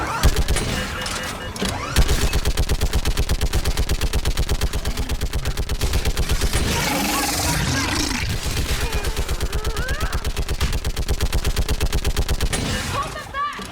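Rapid, sustained gunfire from a battle in Mass Effect 3, dense automatic bursts rattling almost continuously for the whole stretch, loud and close, with shouted voices mixed into the fighting.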